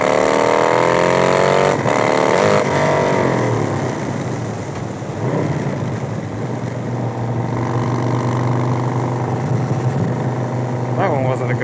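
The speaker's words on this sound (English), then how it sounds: "I'm going to show you how to do a clutchless quick shift with the Harley when my light goes green" A Harley-Davidson motorcycle pulls away and accelerates hard, its loud engine note climbing in pitch and briefly breaking off at each clutchless quick shift, then settling into a steady rumble.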